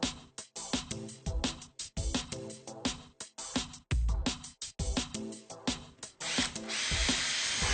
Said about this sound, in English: Use a long drill bit to mark the wall where the universal will be installed